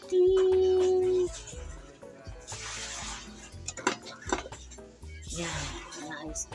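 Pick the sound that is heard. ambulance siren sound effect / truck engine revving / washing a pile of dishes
washing a pile of dishes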